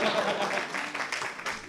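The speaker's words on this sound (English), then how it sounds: "Big round of applause for two physicists whose dreams have died." A comedy club crowd at a gong show applauds two contestants; brief, moderately loud clapping mixed with voices and cheering, tapering within a couple of seconds.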